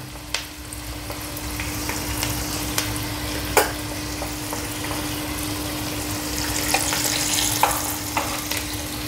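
Hot oil tempering for flattened rice sizzles after turmeric and asafoetida go in with the gas turned off, a steady close crackle with sharp pops and faint clinks, plus a low constant hum beneath, no talking.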